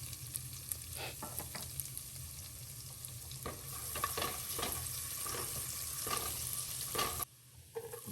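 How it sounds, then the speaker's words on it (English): Minced garlic frying in sausage grease and melted butter for Southern red beans and rice, a steady close sizzle with repeated stirring scrapes through the pan, cutting off abruptly near the end. "We're gonna throw in our fresh minced garlic. It's just gonna brown this a little bit."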